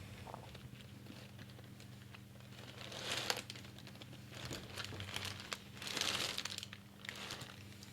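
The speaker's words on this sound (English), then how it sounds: "You need to pull the foil down" Thin foil wrapper crinkling as it is peeled down from food, soft rustling bursts that swell twice against a low steady hum, fairly quiet and close.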